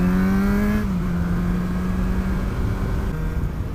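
A motorcycle engine braking while the rider downshifts, with a steady loud drone whose pitch drops after a gear change and then holds as the bike slows.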